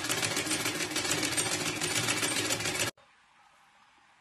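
A sewing machine runs steadily, stitching the side fitting of a saree made from an old lehenga, with a loud, dense whir for about three seconds before it stops abruptly and leaves near-silence.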